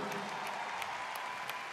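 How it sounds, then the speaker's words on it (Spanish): A live audience at a Latin music concert applauds, giving a steady wash of clapping with a few sharper claps standing out, fairly faint and distant. "Aplauso para todos, esos grandes artistas."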